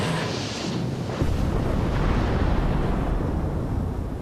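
The Lusitania liner is torpedoed by a German submarine: a deep, rumbling explosion that breaks in after about a second and continues as a sustained, loud roar with no voices.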